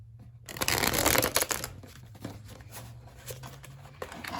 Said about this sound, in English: I'm going to shuffle to show how it shuffles.